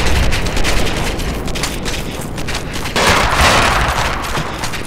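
Sustained gunfire in Arma 2 as a convoy comes under attack: dense, continuous volleys of rifle and machine-gun fire with booming reports, rolling and swelling louder partway through.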